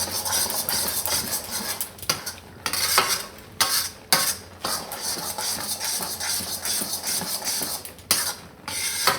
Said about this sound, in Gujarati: હજી આપણે આને થોડીક વાર શેકાવા દઈએ